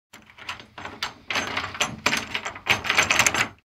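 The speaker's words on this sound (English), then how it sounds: "That door is jammed up pretty good due to the super glue." A door sealed shut with super glue rattles and thuds in several straining bursts as it is pulled hard, with scraping knocks building across a few seconds.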